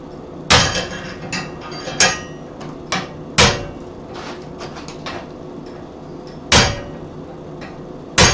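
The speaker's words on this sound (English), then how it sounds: "maybe I can drive that set hammer in and kind of roll that material out" A set hammer is struck to roll out metal while making a tool, sharp metallic blows landing at irregular intervals, several loud and a few lighter taps, with quiet scraping between them.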